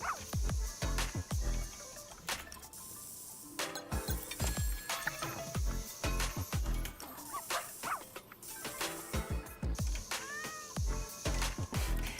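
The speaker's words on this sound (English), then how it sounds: "The soundtrack is really random for this though, like with the cat meowing." A cat meows repeatedly in the Wuthering Waves video game, its calls rising over a busy, steady background of game sound and music, with clinks and thuds scattered throughout.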